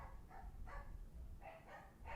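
A dog barks repeatedly in short, evenly spaced yips, heard at moderate distance and fairly faint in an indoor room.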